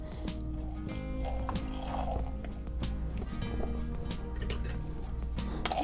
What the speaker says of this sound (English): add enough water to it to make a paste